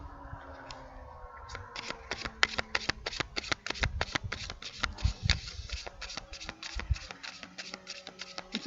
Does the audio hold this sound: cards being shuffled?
yes